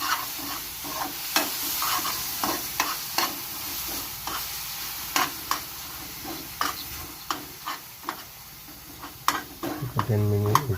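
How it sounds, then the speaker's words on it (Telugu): Jaggery being stirred into pumpkin halwa in a pan: repeated close scraping strokes of a spoon against the pan over a soft sizzle, in an irregular rhythm, ending with a brief louder clatter. "బెల్లం వేసుకొని బాగా కలుపుకోవాలి."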